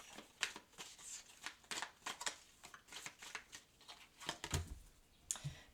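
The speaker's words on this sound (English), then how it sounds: "I'm going to shuffle this a little bit more." A deck of tarot cards being shuffled by hand, a close, quiet run of soft riffling flicks and papery slaps in an uneven rhythm, with no talk.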